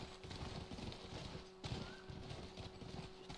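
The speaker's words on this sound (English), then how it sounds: "Run at it, and the horse jumps." A horse gallops in The Last of Us video game, rhythmic hoof clip-clops thudding fairly close with a sharper impact midway as it jumps, quiet overall without speech.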